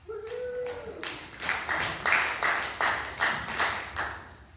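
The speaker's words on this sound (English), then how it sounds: "Let's start with a round of applause." An audience at a piano concert claps a round of applause: a short burst of many hands clapping together, rising quickly and holding steady, moderately close, with a brief tone at the start.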